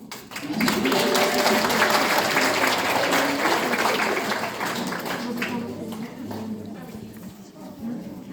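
Sustained applause from a crowd at a school certificate ceremony as children come forward, loud and dense at first, then thinning, with voices and background chatter mixed in.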